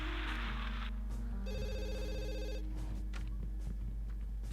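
A telephone rings in The Sims 2 life-simulation game, a bright electronic bell tone repeating in short bursts over steady background game music and ambience, with no one talking.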